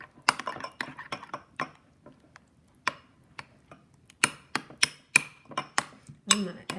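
A utensil mixes an egg into a tofu lasagna filling in a bowl, making close, irregular clicks, taps and scrapes in uneven bursts with short pauses.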